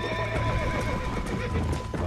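A horse whinnies and its hooves clip-clop in Red Dead Redemption, heard over a busy bed of game sound.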